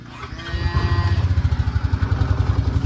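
The engine of an off-road buggy on a dairy farm runs steadily with a loud, throbbing low pulse and a rattling mechanical clatter, close by.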